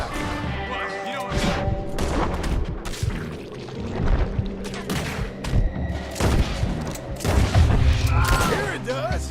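Gunfire and booming shots from the Red Dead Redemption 2 video game, a busy fusillade of bursts and crashes running throughout over a dense game soundtrack, with voices talking among the shots.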